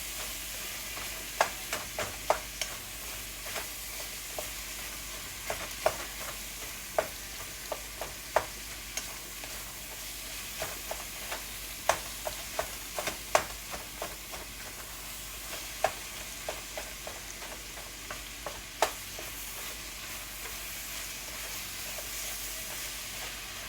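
A spoon stirs a bubbling codfish pot, scraping in a steady run of sharp clicks and knocks over a constant low simmering hiss, close up and with no talking.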